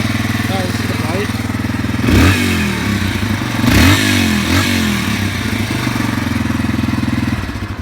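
A 2003 Yamaha TTR225 dirt bike engine runs nearby with a loud, steady, thumping idle, briefly revved twice with rising throttle blips before settling back to idle and then cutting off at the end.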